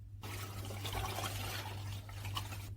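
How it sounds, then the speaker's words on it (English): Homemade dragon fruit and mixed berry wine poured into a fermentation tank, a steady, close liquid rush that runs for nearly the whole stretch with a faint trickling texture. "Now we pour the dragon fruit wine into the fermentation tank"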